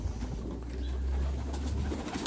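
Vouta pigeons coo softly outdoors on a calm day, low throaty calls repeating over a steady background rumble, no talking.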